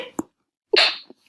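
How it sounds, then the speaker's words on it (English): A single sharp sneeze bursts out, loud and close, with a faint short breath before it and a small sound trailing after. "Pardon me, I had to sneeze."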